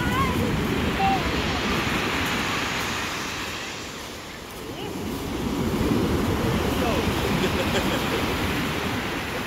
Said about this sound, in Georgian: უყურე ტალღა